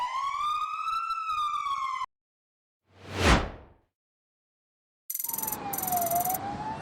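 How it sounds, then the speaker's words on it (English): A fire engine siren wails loudly in two bursts with a swooping tone, broken by a short whoosh and a gap of silence. "Fire engine."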